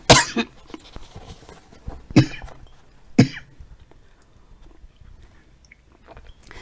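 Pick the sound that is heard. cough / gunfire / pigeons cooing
cough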